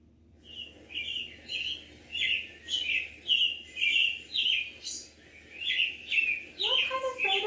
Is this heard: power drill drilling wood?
no